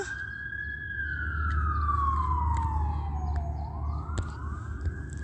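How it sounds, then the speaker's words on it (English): A wailing San Bernardino County Fire siren sweeps slowly down then climbs again, loud and fairly close, over a low engine rumble with a few clicks. "they also sound sirens"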